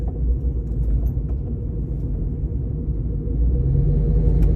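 Interior of a 1997 Ford F-150 regular-cab short-bed 4x4 pickup with a freshly installed 4.6 PI V8, driving along with a steady, loud low engine and road rumble that swells slightly near the end.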